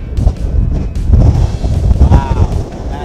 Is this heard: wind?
yes